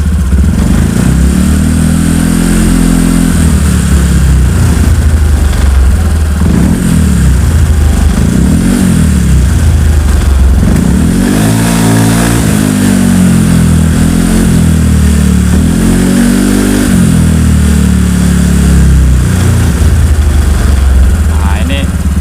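A motorcycle engine is revved repeatedly while its Juken 5+ ECU is tuned, loud and close, with rising and falling throttle blips over a steady idle drone.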